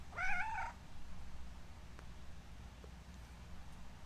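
A cat gives a single short, clear meow close by, followed by quiet room tone.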